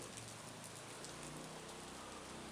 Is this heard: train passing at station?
no